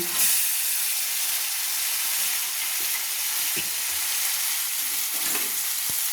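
Steady close sizzle of fried eggs and pointed gourd being stirred into hot curry masala in oil, a continuous bright hiss with occasional soft scrapes and clinks of a spoon against the pan.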